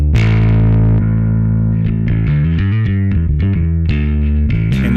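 Electric bass fed through a compressor into the gain and overdrive stage of an amp head, a loud, thick distorted line of sustained notes and shifting pitches with an even, squashed level throughout.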